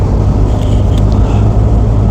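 Car engine struggling to pick up speed on a slight uphill slope at around 10 mph, a loud, constant low rumble from inside the vehicle with no talking.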